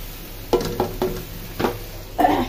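Onion, ginger and garlic paste with chili powder cooking in a pan, giving a soft background sizzle broken by four or five distinct scraping stirs of a spoon against the pan, close and moderately loud, with no talking.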